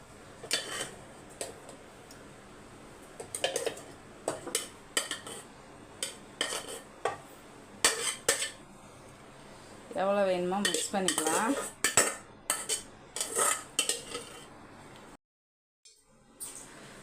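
Metal utensil scraping and clanking in a pan as cooked rice is stirred into fried rice, heard in intermittent bursts of clatter over a quiet background, with a brief silent gap near the end and no speech.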